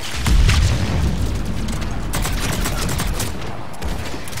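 Sniper rifle fire from the Mass Effect 3 video game comes as a dense stretch of loud, booming gunfire and impacts. Shots overlap steadily with no pause for the whole stretch.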